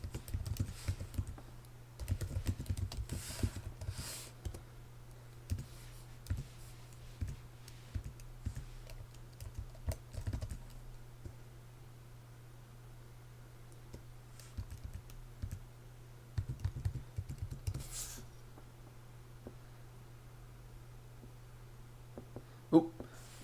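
A keyboard is typed on to sign into Game Center, giving soft, irregular clusters of key clicks over a low steady hum, close and quiet.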